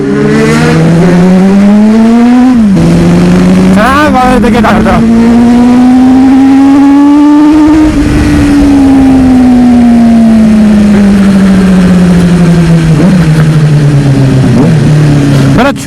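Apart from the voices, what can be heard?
superbike raw exhaust: CBR600, F3, GSR600, Duke 390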